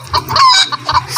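A chicken in a Roblox castle obby game clucks in a quick run of short, loud, closely spaced calls, heard alone with no talk.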